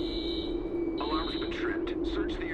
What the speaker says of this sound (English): Alarm's been tripped. Search the area.